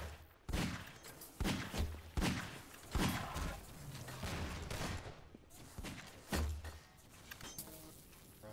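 Repeated heavy blasts and thuds from rockets in a dm_focus_b2 deathmatch game, loud and close, coming in a rapid irregular series across the stretch with bursts of other gunfire mixed in.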